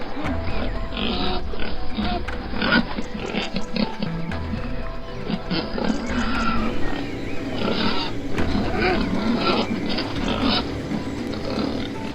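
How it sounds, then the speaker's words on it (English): A massive herd of wild boars ravaging a cornfield at night grunts, squeals and snorts continuously in a loud, dense chorus. "a massive herd of wild boars relentlessly ravage cornfields ready for harvest"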